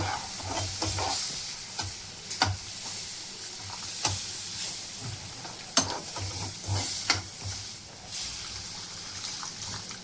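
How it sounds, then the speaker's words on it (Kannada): Mango sheera being stirred in a pan after hot water is added, with repeated scraping strokes of a spoon and a steady sizzling bubble underneath, close and moderately loud, no voices. "ಬಿಸಿನೀರು ಹಾಕಿ ಹೀಗೆ ತಿರುಗಿಸಿ, ಗಂಟು ಹಾಕದಾಗಿ ನೋಡಿ."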